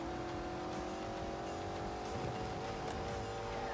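Pirelli tires squealing on a car in The Grand Tour Game, a sustained high squeal riding over a steady engine roar, loud and close with no speech.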